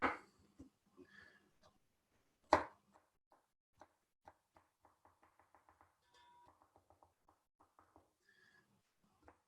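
A knife chopping peeled garlic on a cutting board, with a loud thump, then a steady run of quick, light taps at close range and no talk.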